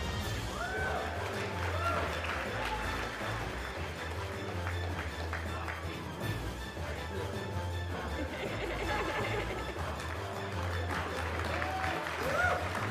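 A large convention panel crowd cheers and applauds continuously, a dense roar of clapping and shouting that stays loud throughout.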